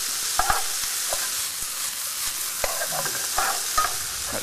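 Spring onion goes into a pan with chicken and corn for satay rice, crackling in a bright, close sizzle with frequent utensil taps and stirring scrapes.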